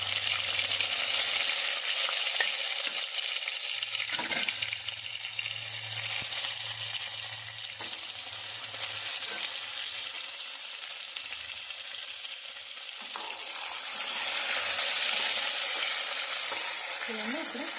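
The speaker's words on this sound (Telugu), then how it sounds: "వేగిన తర్వాత మనం కట్ చేసుకున్న వంకాయలు ఒక్కొక్కటి మెల్లగా వేసుకోవాలి." Cut brinjal pieces fry in hot oil with a steady, bright sizzle and crackle, punctuated by occasional stirring clinks, the frying swelling louder near the end.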